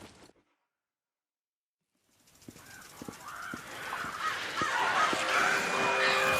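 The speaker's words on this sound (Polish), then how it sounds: "Więcej wron." Crows cawing in Days Gone, a run of harsh repeated caws that start after a silent stretch and build in loudness, overlapping one another amid a swelling noisy game soundscape.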